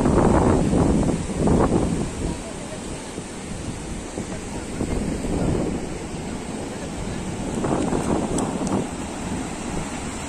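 Sea waves break at Digha beach under gusty wind, rising and falling in loud surging washes, with heavy wind rumble on the microphone.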